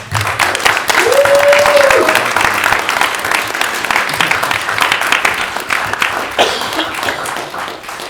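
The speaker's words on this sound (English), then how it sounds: "I hope you might join me in giving them a little applause for doing some good work" Audience applause after a horror film screening Q&A at the Romford Horror Festival, a full room clapping steadily for several seconds, with a brief cheer early on, then gradually thinning.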